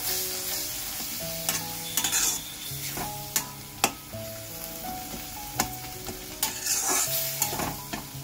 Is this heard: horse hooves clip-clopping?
no